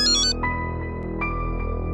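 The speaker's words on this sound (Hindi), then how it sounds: "किसका फोन आ गया?" A short electronic ringtone chirps at the start, followed by a steady tonal hum with faint repeating beeps, no talking.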